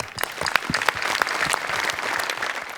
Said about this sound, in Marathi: सोनी मराठीसाठी जोरदार टाळ्या